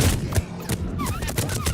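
Sustained gunfire in the sci-fi shooter Mass Effect 3, with rapid repeated shots and thumps forming a dense fusillade throughout, plus brief synthetic whines layered over the battle noise.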